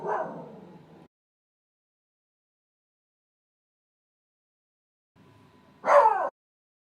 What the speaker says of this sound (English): My dog is just barking up a storm.